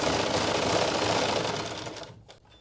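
A sewing machine stitches fabric for a suit neck, a steady fast mechanical whir held close and loud before slowing and stopping, with a couple of light clicks at the end.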